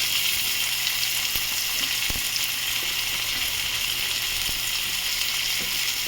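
Two medium onions frying in oil after cumin for a pomfret curry, an even, dense sizzle close up with a few faint stirring clinks, no voices.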